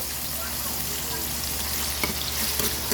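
Garlic and onion sauté in hot oil with a constant crackling sizzle. A few sharper stirring clicks come toward the end, and there is no talk.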